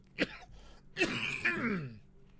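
A single sharp throat-clearing cough, followed by a rougher, longer raspy cough-like burst, close to the mic with no talking.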